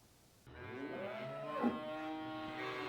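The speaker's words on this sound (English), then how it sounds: "She's just one of 120 cows here in Fredericton Junction." A Jersey dairy cow on a farm at Fredericton Junction gives one long, loud, close moo that swells slightly in the middle and holds steady to the end, with no talk over it.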